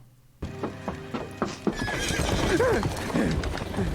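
Hooves clop in a quick series, followed by a loud horse whinny in a Game of Thrones episode, close and prominent after a moment of quiet.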